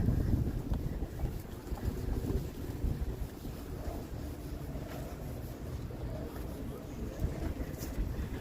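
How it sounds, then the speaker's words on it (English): Strong wind buffets the microphone in a constant low rumble, a steady outdoor roar with no distinct voices, in a wide open space uptown in Halifax, Canada in November. "it usually is quite windy up here where it is such a wide open space"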